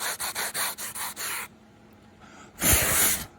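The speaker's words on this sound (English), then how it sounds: "I'm using a foam sanding block, nothing special." Rhythmic sanding strokes with a foam sanding block on scale model tank tracks, a quick run of about seven short rubbing passes, then a pause and one longer, louder scrubbing stroke.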